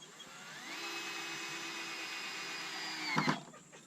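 A power drill drives screws into cut deck boards during a deck overhaul, its motor whining up and holding a steady pitch before winding down with a short rattling clatter at the end.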